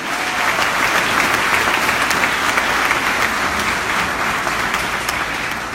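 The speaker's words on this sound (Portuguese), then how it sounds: "pode aplaudir a Ele, porque Ele é digno" A church congregation applauds during a sermon, many hands clapping in a loud, even, continuous roar from start to finish.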